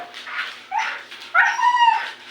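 A jealous dog whimpers, yips and lets out a rising whining howl up close while another pet is being bathed, in short, strained bursts.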